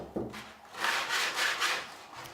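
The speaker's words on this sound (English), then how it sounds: "sand the edges of the sound hole in the rear panel using the sandpaper included in the kit" Short rubbing strokes of sandpaper wrapped around a sponge work the edges of the sound hole in a wooden rear panel from a kit, about three soft rasping passes, close and quiet.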